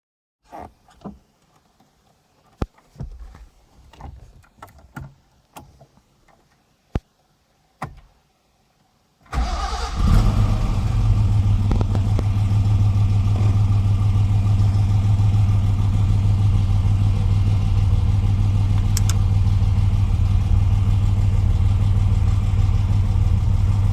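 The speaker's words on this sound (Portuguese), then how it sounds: "um pouquinho do barulhinho do motor" A few clicks and clunks, then a Ford Capri 3000 Ghia engine cranks and catches, settling into a steady, close, rumbling idle that continues evenly.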